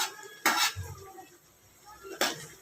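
A spoon scrapes and clanks against a cooking pot while biryani is stirred, two sharp metallic knocks with softer rustling between, close and quiet, with a voice faintly present.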